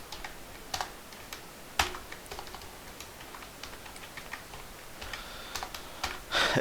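Computer keyboard typing while someone writes CSS styles into an HTML head for a jQuery lesson: irregular bursts of close, crisp key taps, with a louder flurry near the end and no talk.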